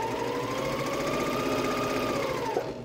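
Sewing machine stitching a valentine quilt block, running in a steady, continuous mechanical whir with rapid needle rhythm close by, alone for nearly three seconds before stopping.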